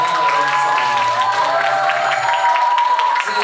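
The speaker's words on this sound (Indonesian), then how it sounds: "Kita beri tepuk tangan buat Kayla yang sudah menggunakan door prize-nya." An audience at a one-day spiritual motivation event claps for Kayla after her door prize turn: a dense, steady wash of applause and crowd noise, close and fairly loud throughout.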